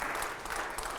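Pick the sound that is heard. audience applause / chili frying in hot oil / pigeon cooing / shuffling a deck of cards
audience applause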